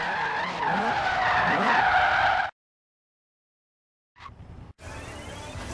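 A car drifting in Forza Horizon 3, loud tire skids squealing with engine roar for a couple of seconds, then a cut to silence before the skidding sound briefly returns.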